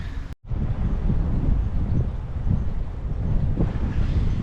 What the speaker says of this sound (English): a little bit windy, but it's a nice day